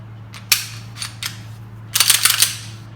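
A Heckler & Koch VP9 pistol slide pulled back and released, sharp metallic clacks followed by a cluster of rattling snaps, close and loud against a steady low hum.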